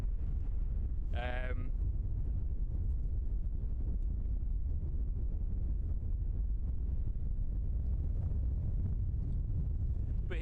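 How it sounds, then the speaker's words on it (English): Strong wind buffeting the microphone with a constant loud roar at Christchurch Airport, broken briefly by a short voiced sound near the start. "Didn't realise it was going to be this windy"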